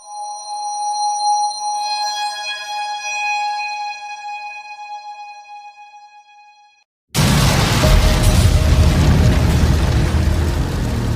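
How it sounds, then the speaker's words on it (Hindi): A shimmering, ringing tone slowly fades to near silence, then a sudden loud, roaring blast depicting the Big Bang bursts in and keeps rumbling heavily to the end. "फिर अचानक एक जबरदस्त धमाका हुआ"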